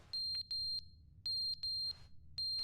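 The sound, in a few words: fire alarm chirping in The Stanley Parable video game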